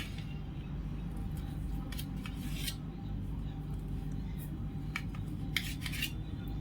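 A knife cutting through a cooked slab of kothimbir vadi: soft, scattered scrapes and cuts, fairly faint over a low background hum, with no one talking.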